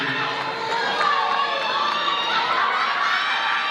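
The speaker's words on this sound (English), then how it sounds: "One more big round of applause for these three beautiful ladies as they enter the stage." A crowd cheers and shouts with excited voices as three dancers enter the stage at a dance competition, a steady, loud wash of noise with no clear pause.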